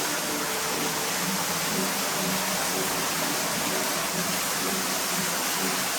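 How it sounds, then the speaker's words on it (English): A big waterfall at Rock City on Lookout Mountain roars as a dense, constant broadband rush of falling water, close and loud throughout with no break. "Another big waterfall with all kinds of gems."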